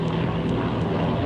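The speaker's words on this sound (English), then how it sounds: "German planes patrolled the forward area in strength, waiting to pounce on any French reconnaissance planes." A steady, dense engine drone, as from German propeller warplanes of the First World War flying over the front at Verdun, loud and continuous with no pauses.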